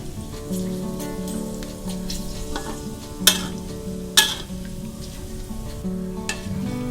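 Pork fat sizzles steadily in a hot pan as it renders into lard, with a constant frying hiss and a couple of sharp clinks from stirring.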